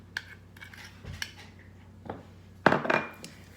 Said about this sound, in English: Again, continue to mix.